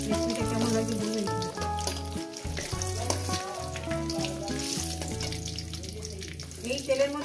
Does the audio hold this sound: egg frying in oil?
yes